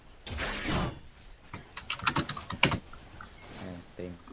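Keys clatter on a Glorious mechanical keyboard in quick, uneven bursts of sharp clicks, close and fairly loud, with a voice talking briefly before the typing starts.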